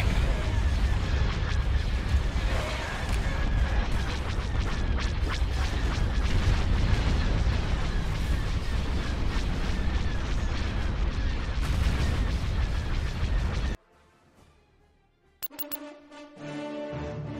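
Missiles launched from a missile destroyer in a Star Wars space battle game pound out as a dense, continuous barrage of booms and blasts, loud and sustained for many seconds before cutting abruptly to near silence.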